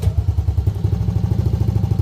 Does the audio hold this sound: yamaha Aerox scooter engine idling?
yes